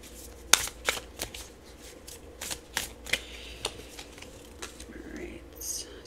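Tarot cards shuffled in a reading, giving repeated crisp riffling bursts and soft slaps at an irregular rhythm, close and moderately quiet with no talking.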